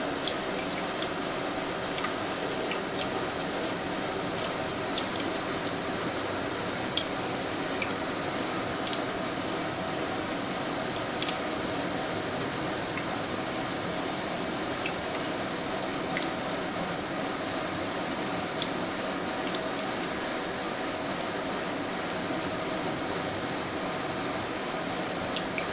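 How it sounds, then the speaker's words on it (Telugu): Chana dal vadas fry in hot oil, giving a steady soft sizzle and bubbling that holds evenly throughout at low level, with no voices. "దీని మీద ఆయిల్ సరిపడా పోసాను కదా నేను. చూడండి వడలు వేస్తున్నాను."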